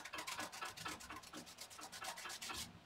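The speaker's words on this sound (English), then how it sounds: "we're just going to rub off the masking fluid and reveal our daisies." A finger rubs dried masking fluid off watercolor paper to uncover painted daisies: a run of quick, close, dry rubbing strokes in steady rhythm, repeated without pause and with no talking.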